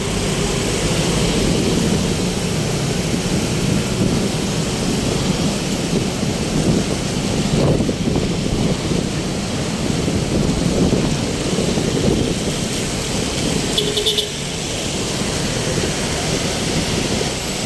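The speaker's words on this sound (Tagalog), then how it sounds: "Ulan." Heavy rain from a typhoon pours steadily in Makati City, a dense continuous roar with low rumbling beneath it and no voices.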